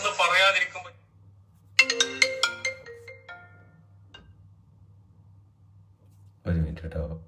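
A mobile phone ringtone plays a short, bright, tonal melody in the middle, with someone talking briefly before and after it.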